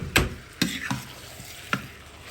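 Meat and onion frying in a pot for Sindhi biryani, a steady close sizzle broken by a few sharp scrapes and knocks as the mixture is stirred and turned.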